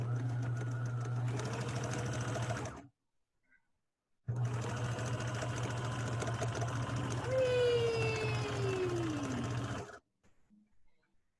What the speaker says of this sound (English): Turn on the sewing machine.